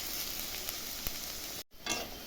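Onions sizzle in hot oil in a pan, a steady close hiss and crackle with occasional pops, briefly cutting out for a moment before the frying resumes.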